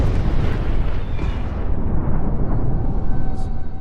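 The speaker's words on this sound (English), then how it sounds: "triggering a huge explosion visible to Michael deep in the woods." A loud explosion roars and rumbles, a sustained heavy blast that rolls on for several seconds before slowly thinning out.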